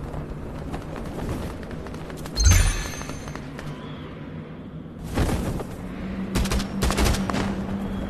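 Gunfire in the VR shooter Contractors Showdown comes in a few separated bursts and volleys of shots. One sharp, louder blast stands out among them, with quieter gaps between.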